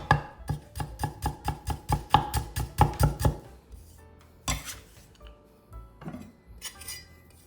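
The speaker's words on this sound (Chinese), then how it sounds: "蒜头拍散后切碎。 一小块的姜拍散切碎。" Knife chopping smashed garlic and ginger on a board: a fast, steady run of sharp wooden knocks, then a few scattered chops and a light clink, close and clear with no talk.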